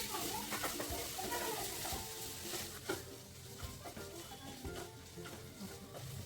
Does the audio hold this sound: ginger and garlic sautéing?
yes